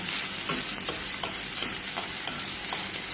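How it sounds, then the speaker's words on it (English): Ackee and saltfish sautéing in a pan give off a steady, close sizzle with faint stirring ticks and scrapes, continuous throughout with no voices. "So I'm gonna cover this and allow this to saute"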